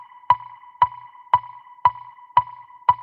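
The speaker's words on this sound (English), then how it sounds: "if I do a 4/4 metronome, it sounds like this" Metronome set to 4/4 with every beat unaccented, six identical sharp clicks evenly spaced about half a second apart, close and alone.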